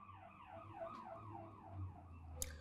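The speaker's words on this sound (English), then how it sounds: "So hence the sirens." Emergency vehicle sirens wail from a nearby major street, a faint, rising-and-falling electronic warble repeating in a steady cycle over low traffic rumble, with a brief sharp click near the end.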